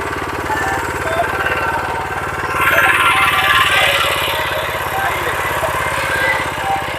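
Power tiller engine running in first gear, a steady close mechanical chug with a continuous low rhythmic throb, swelling slightly louder midway, with faint voices in the background.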